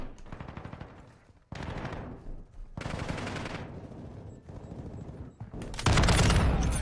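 Bursts of automatic gunfire in Call of Duty: Modern Warfare II, several loud, dense volleys separated by short gaps, with a sharper, heavier blast near the end and no talk over it.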